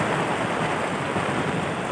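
Rain and wind in an open rice field, a dense steady hiss of falling rain with gusty noise, continuous and close, no voices.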